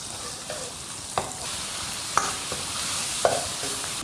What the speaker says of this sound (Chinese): 锅留底油，下入切好的猪肉。